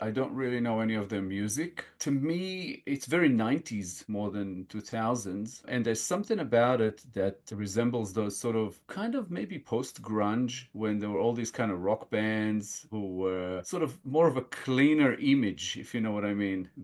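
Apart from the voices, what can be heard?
None of the usual background noises is heard.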